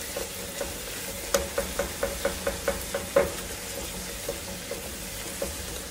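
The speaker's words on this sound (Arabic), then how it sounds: "بضيفه وضفنا الثوم ونحمس" Crushed garlic sizzling in a pan, a soft steady fry under a series of sharp rhythmic knocks as it is stirred with a utensil, with nobody speaking.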